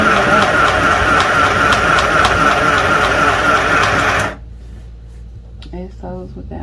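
A JRING sewing machine running at speed with a fast, steady mechanical whir and rapid rhythmic ticking, loud and close, stopping abruptly before a voice speaks.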